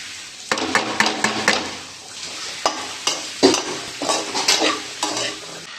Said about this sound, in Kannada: ಸ್ವಲ್ಪ ಎಣ್ಣೆ ಹಾಕಿ ಎಣ್ಣೆ ಮೇಲೆ ಅದಕ್ಕೆ ಸ್ವಲ್ಪ ಸಾಸಿವೆ ಒಗ್ಗರಣೆ ಎಲ್ಲ ಹಾಕಿ